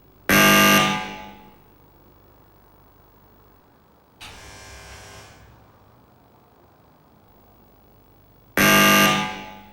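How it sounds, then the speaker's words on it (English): A gallery doorbell, Martin Creed's artwork in a Brixton flat, rings through an amplifier in three loud harsh buzzing blasts, separated by quiet gaps, each cutting off abruptly with a fading tail. "Here's the sound of the doorbell amplified through an amp."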